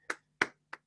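Three sharp hand claps spaced evenly apart, close and crisp, isolated against silence rather than a full audience round of applause.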